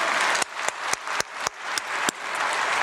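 Sustained applause fills a church during a New Year prayer meeting as the congregation claps, a steady wash of hands punctuated by a few sharper, louder claps.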